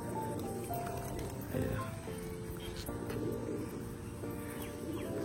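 Pigeons, among them new sand-coloured birds, coo softly on a rooftop after rain, their low murmurs half buried in a steady wash of outdoor background noise.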